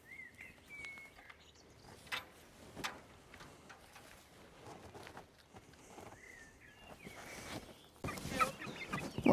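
A flock of backyard chickens clucking and calling, with scattered sharp clucks and a rising squawk, fairly close and busy, growing louder near the end.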